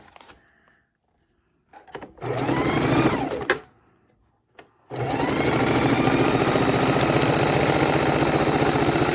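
A sewing machine stitches raw edge appliqué on fabric backed with freezer paper, first in a short burst that stops, then starting up again and running steadily with a close, even motor hum and rapid needle clatter.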